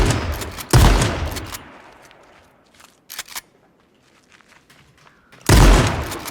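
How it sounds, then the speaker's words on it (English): Gunfire in the video game H1Z1 comes in sharp bursts, a loud volley at the start, a couple of quick faint shots in the middle and another loud burst at the end, with quiet gaps between. "Some other guy shooting."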